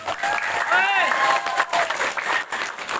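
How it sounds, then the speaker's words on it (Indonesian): An audience applauds the organisers at a grand evening Sundanese religious lecture, a burst of dense clapping mixed with raised voices that swells briefly and then thins under continued talk. "Tepuk tangan untuk para panitia."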